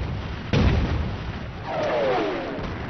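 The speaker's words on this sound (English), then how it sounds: "Montgomery launches his offensive with a preliminary artillery barrage, followed by a massive tank assault." Heavy artillery barrage from a WWII battle sounds in a single loud, close explosion burst with rumbling tail, followed by a descending whistling tone, over a continuous low battlefield rumble.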